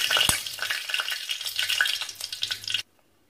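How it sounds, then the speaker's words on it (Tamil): Dried red chillies and curry leaves crackle and sizzle loudly in hot oil during tempering for a country-chicken curry, with spoon stirring, before cutting off abruptly into silence. "இதானோன்னா வத்தல் போட்டு தாளிச்சு விட்டுருலாம்"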